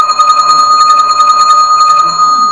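An electromagnetic electric bell rings nonstop, its clapper striking in a fast, steady rattle that gives a loud, sustained metallic ring close by, with no one talking.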